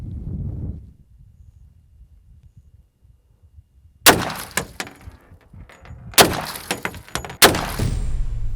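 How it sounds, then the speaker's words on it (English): .45 FMJ 230-grain rounds fired at near point-blank range into the rear window of a Cybertruck: three loud, sharp shots with glass breaking, after a quiet stretch, each followed by clattering debris. "we're shooting 45 FMJ, 230 grain, right into the back of this window"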